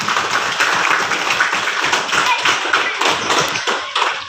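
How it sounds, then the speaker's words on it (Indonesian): A class of schoolchildren claps together in a school classroom, a dense, continuous patter of many small hands, fairly loud and close, with no talk over it. "Ya, semua tepuk tangan dulu biar semangat."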